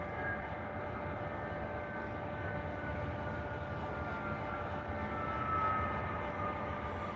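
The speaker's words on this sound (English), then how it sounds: "it's a little bit bigger of a plane" The steady engine roar of a larger airplane drones continuously from a moderate distance, broad and rumbling with faint tonal whine, with no talk over it.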